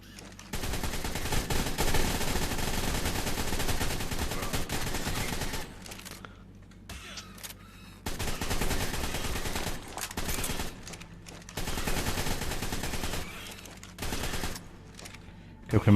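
Sustained automatic gunfire in ARK: Survival Evolved pours out in long, dense bursts separated by short pauses, loud and continuous, with occasional speech mixed in.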